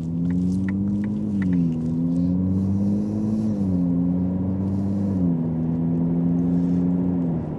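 A Ferrari 296 GTB under way, its steady engine drone dropping and rising in pitch at three smooth gear changes, loud and close from inside the car.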